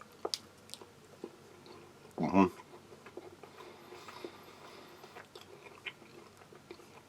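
A chocolate-filled toaster pastry from a US Army MRE combat ration is bitten once with a short crunchy burst, followed by faint, soft chewing over quiet background noise.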